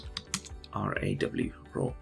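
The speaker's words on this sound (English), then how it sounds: "I'm gonna type in here" Clicky typing on a computer keyboard while text is entered in editing software, a quick run of close keystrokes mixed with a brief murmur of speech.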